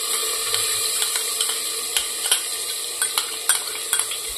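Wet, squelching mixing sounds as chicken is worked by hand with onion paste, Kashmiri chilli powder and yogurt in a bowl, with steady soft churning and occasional sharper slaps and clicks.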